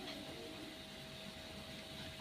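A mixer grinder grinds masala for prawn ghee roast in a home kitchen, a steady continuous whirring drone without pauses, fairly quiet.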